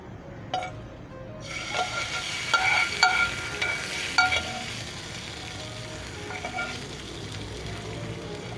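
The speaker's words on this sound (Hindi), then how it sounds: "उसके अंदर मैंने 1/2 टीस्पून ज़ीरा डाला है, और इसे हमें फ्राई कर लेना है, जलाना नहीं है।" Half a teaspoon of cumin seeds sizzles in hot oil for a tempering poured over dahi baray. Steady close frying crackle runs throughout, with a few sharp metallic clinks of a spoon stirring.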